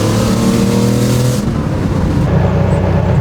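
A Porsche 930 Turbo being driven, its engine note a steady loud drone that drops and changes character partway through as the car moves along, with no talking.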